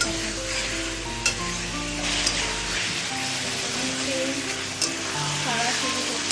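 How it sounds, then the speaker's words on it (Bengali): Mutton being stir-fried (kosha) with potatoes in a pan, a steady close sizzle with occasional spatula scrapes and stirring clatter, continuous throughout with no talking. "এগুলো কষানো হচ্ছে, ভালো করে এদিক ওদিক করে কষা"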